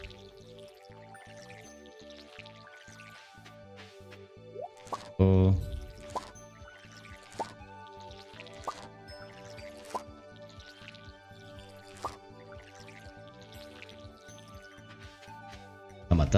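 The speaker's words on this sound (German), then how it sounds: "Und jetzt schön das Getreide hier gießen." Crops watered with a watering can in the video game Stardew Valley: soft dripping and plopping splashes repeat at intervals over quiet game music, with one louder splash burst and a brief spoken word.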